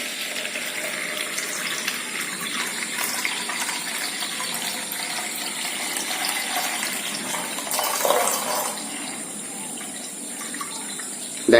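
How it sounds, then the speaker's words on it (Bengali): A water pump motor fills a tank, with a continuous rush of flowing water and a steady motor hum that surges briefly partway through before settling. "এবারে মোটরে জল ভরছে।"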